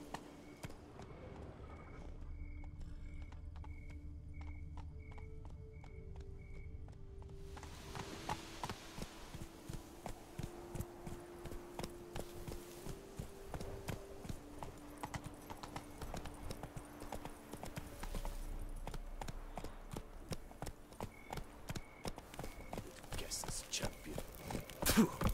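Horse hooves of Roach, a video game horse, clip-clop steadily at a run through a game scene, with music and occasional other game sounds around them.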